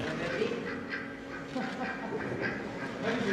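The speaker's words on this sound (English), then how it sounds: "here's the duck, everybody. Quack, Hell quack." A duck quacks repeatedly, its calls mixed into a steady background rumble that sounds like a train or other machinery.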